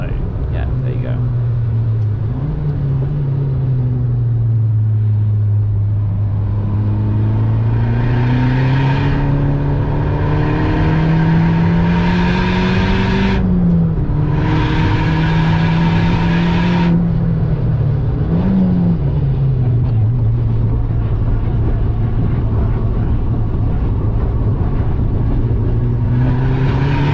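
A Volkswagen Polo WRC rally car is driven hard. Its engine drones steadily from inside the car, with its pitch climbing and falling through several gear changes over about half a minute.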